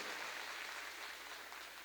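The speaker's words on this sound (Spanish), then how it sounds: "Un aplauso fuerte a Jesús, al Espíritu Santo" An audience at a church talk claps, a faint, dense patter of applause that holds steady and fades slightly toward the end.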